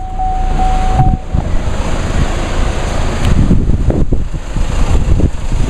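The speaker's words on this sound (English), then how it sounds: "The wind has picked up a little bit." Wind blows steadily outdoors around a 2016 Chevrolet Cruze with its hood being opened, a constant broadband rush with rumbling gusts close to the microphone, no talking.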